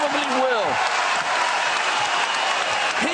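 A boxing crowd of about 5,000 applauds and cheers steadily, dense clapping and shouting held throughout while a commentator speaks over the top near the start and end.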